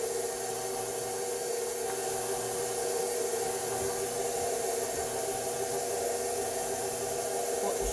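A stand mixer with a paddle beating buttercream, a steady whirring motor hum with a broad hiss that holds evenly and continuously, moderately quiet, with no talk.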